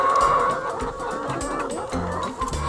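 Hens cluck and chatter in a large farm flock of about 900 chickens, with overlapping calls close by and no talking.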